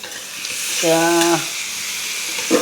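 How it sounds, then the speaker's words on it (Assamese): Goat meat frying in oil in a pan, with a steady sizzling hiss throughout and a brief tonal squeak in the middle. "মাংস লাহে লাহে তেল এৰিব ধৰিছে"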